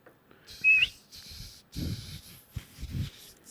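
A brief thin whistle note, then several breathy, airy attempts at whistling with puffs of breath, close and fairly quiet.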